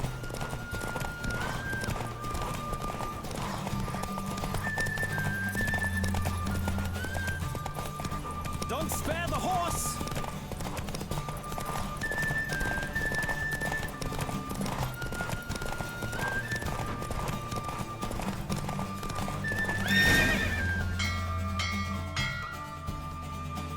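Roach the horse gallops in a race in The Witcher 3: a steady rapid clip-clop of hooves runs throughout, with a whinny near the end, over game music and bits of talking.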